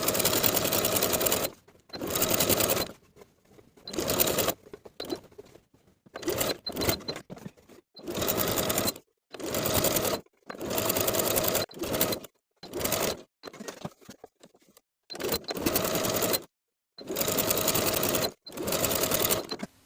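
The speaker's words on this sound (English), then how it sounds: "Sew the facing to its seam allowance underneath with about an 1/8 inch seam allowance" A sewing machine understitches a garment facing to its seam allowance, running in repeated short bursts of steady whirring separated by brief pauses, close and fairly loud with no talk.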